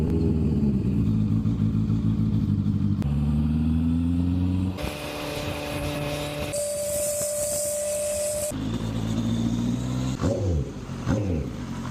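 A Benda LFC 700 Pro inline-four motorcycle warms up after standing for months: loud, close engine idle with repeated revs climbing and falling in pitch, continuous throughout.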